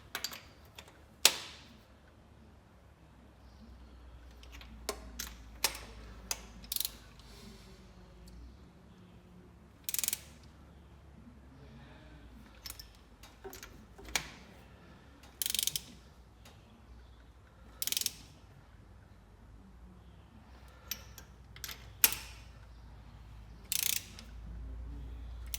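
A ratchet with an extension tightening bolts on a 1964 Chevy Nova, short bursts of sharp clicking spread across a quiet shop, each a few quick pawl clicks, close and crisp.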